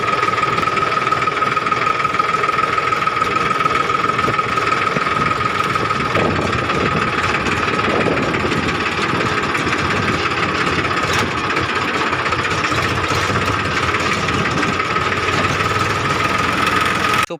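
A gas-powered tractor engine running steadily, a loud, close, continuous rumbling drone with a rhythmic knocking pulse and no pauses or speech.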